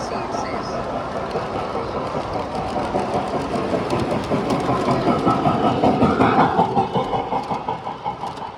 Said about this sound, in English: there's a train coming my way